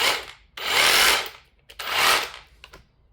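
An Einhell cordless drill fitted with a 2 Ah battery runs in two whirring bursts of about a second each, with a short pause between them and a brief tail-off at the end.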